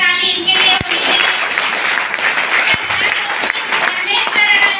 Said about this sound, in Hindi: एक जोरदार ताली इनके लिए होनी चाहिए।